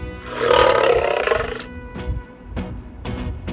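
A loud recorded lion roar from a LeapFrog Learning Friends 100 Words toy book, one drawn-out growl that fades, followed by a few short electronic clicks from the toy.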